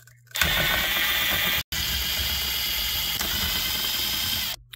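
Close, loud continuous whirring of a ratchet driving an 8 mm socket to remove a bolt from a Homelite chainsaw, with one short pause partway through, then resuming steadily until it stops.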